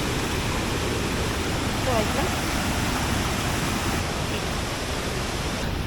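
Roadside waterfall near Hyderabad pouring heavily through a broken section, a steady close broadband roar of rushing water that fills the whole clip with only slight swells.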